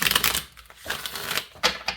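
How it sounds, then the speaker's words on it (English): Tarot of the Abyss cards are shuffled close up, a quick run of crisp papery clicks and riffles in uneven bursts, with no talking. "let's shuffle up the Tarot of the Abyss"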